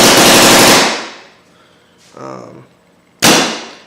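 A machine gun held by the feed neck fires a loud, close sustained burst that rattles and decays, then after a quieter pause a second burst abruptly starts.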